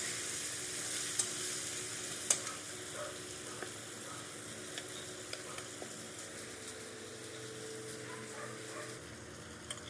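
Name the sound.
diced potatoes frying with spices in a pan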